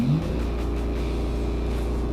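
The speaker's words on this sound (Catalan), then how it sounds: "Ara aguantem amb el peu esquerre el gas i accelerem a fons." A BMW M2 in manual first gear at full throttle, its engine noise a loud, steady low rumble and drone that holds close and unbroken from start to finish.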